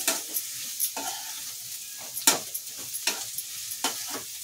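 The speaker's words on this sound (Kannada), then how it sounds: "ಈ ರೀತಿ ಚೆನ್ನಾಗಿ ಫ್ರೈ ಮಾಡ್ಕೊಳ್ಳಿ." Vegetables being stir-fried for restaurant-style veg fried rice: scattered scrapes and clinks of a spatula against the pan over a soft, steady sizzle, heard close with no talking.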